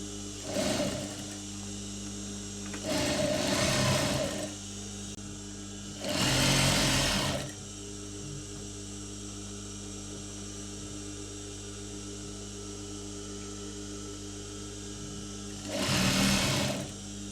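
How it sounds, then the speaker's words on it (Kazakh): A sewing machine stitches the side seam of a velour curtain in four short bursts, each a few seconds long, with pauses between them. A steady low hum runs underneath throughout. "ыңғайлы болу үшін боковойды тігіп аламыз"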